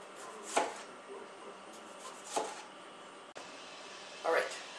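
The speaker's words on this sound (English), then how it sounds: "I've got all my tomatoes sliced up" A Miracle Blade knife slices green tomatoes, heard as three distinct, evenly spaced crisp cuts with quiet pauses between them, close and fairly soft.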